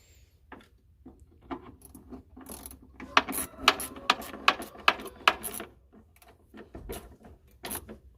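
A bolt is ratcheted in while an HVAC box is remounted in a 1976 Chevy El Camino, with a run of close, sharp mechanical clicks that are loudest in the middle, and no talk.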